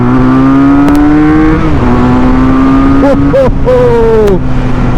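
A 2023 QJ Motor SRK 400 two-cylinder motorcycle engine climbs and drops in pitch through several throttle bursts, loud and close, with a steady droning tone underneath.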